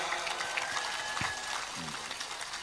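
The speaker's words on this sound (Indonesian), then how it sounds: "Tepuk tangan untuk Mas Ipang Wahid" Applause from an audience at a gathering, a fairly soft steady patter of clapping with voices faintly mixed in.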